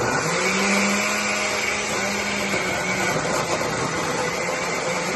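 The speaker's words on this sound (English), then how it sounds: "Excuse the blender noise," A blender whirs loudly and steadily throughout while making Haitian épis seasoning, a dense grinding motor roar with no pauses.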